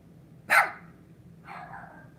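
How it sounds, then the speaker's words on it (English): Dogs bark in the background at moderate distance, one sharp bark followed about a second later by a softer, drawn-out one, with no talking. "So don't mind my dogs that they're barking in the background."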